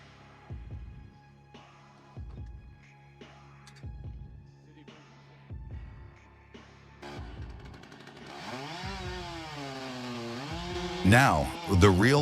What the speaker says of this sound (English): the logger cuts a square notch into the tree, a technique known as the felling notch